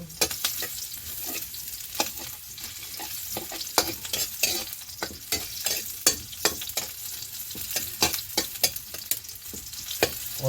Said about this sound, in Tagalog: Haluin, haluin.